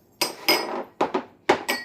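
Small glass storage bowls being handled and set down, giving five distinct clinks and knocks spaced unevenly, each with a short ringing tail, close and fairly loud with no talk.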